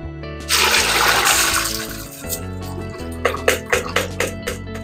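Water pours and splashes as rinsed rice is strained through a colander for rice pudding, a steady gush at first, then thinner trickles and a few sharp splashes near the end.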